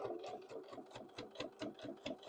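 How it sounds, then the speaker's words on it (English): Sewing machine needle stitching through several layers of fabric on a curved zipper pouch, a quiet steady rhythmic chatter of rapid repeated punches, close but soft, with no talking. "You can hear my needle going through all of the different layers of fabric."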